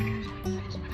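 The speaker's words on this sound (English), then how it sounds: "Wow, so many seagulls." Seagulls gather over a winter waterside in Amsterdam, giving short, harsh, honking calls in quick succession against a busy, noisy outdoor background.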